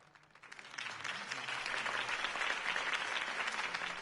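Crowd applause at a Gotham City political campaign rally for Harvey Dent in Batman: The Telltale Series, swelling from quiet into a dense, sustained ovation of many clapping hands that holds steady to the end.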